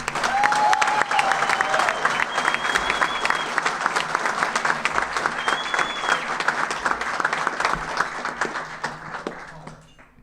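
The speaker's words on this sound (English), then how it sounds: "Let's give all of our outstanding unsung heroes one more round of applause." Sustained audience applause for award winners at an annual awards and unsung heroes ceremony at Lajes Field, a full room clapping steadily for about ten seconds with a few whistles before fading out.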